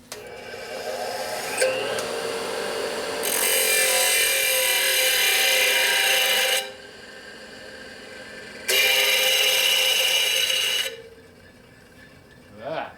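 Power grinder working a part for a Harley-Davidson Shovelhead big-bore stroker motor in a machine shop, two long steady loud grinding passes separated by a quieter pause, with a brief knock in between.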